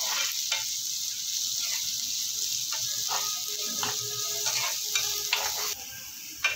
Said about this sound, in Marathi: इथे मी 1 कांदा घेतला आहे बारीक चिरून, तो पण आपण त्याच्यात टाकूया आणि तो पण थोडा मऊ होईपर्यंत भाजून घेऊया